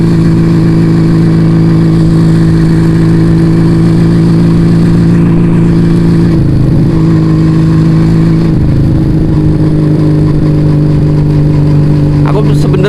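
A two-cylinder Yamaha Vega ZR motorcycle engine runs loud and close, holding a steady buzzing idle with a couple of brief throttle blips that dip and swell the pitch midway.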